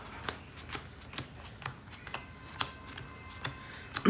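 A Yu-Gi-Oh card deck being power shuffled by hand: quiet, crisp riffling flicks repeating in an uneven quick rhythm, close up, with no talking.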